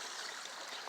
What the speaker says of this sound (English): a beautiful waterfall right here in the Rose Garden in Central Park